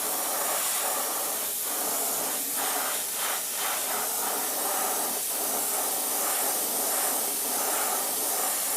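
Airbrush spraying a light, even coat of paint, giving a continuous loud hiss of compressed air with faint variations as passes are made.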